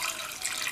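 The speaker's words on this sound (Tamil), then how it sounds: "முங்குற அளவுக்கு தண்ணி சேர்த்தாச்சு" Water pours into a pressure cooker holding soaked chana dal with a pinch of turmeric and cumin, a brief steady splashing rush close by, heard alone.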